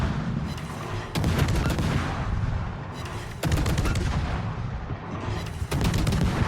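Naval gunfire in a World of Warships-style game with a Japanese destroyer: repeated heavy cannon booms in separate salvos, loud and close, over a constant rumbling background of engine and sea noise.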